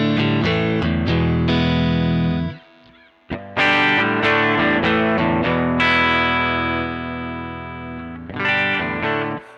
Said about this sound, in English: So here is the sound of my amplifier on my Strat as it stands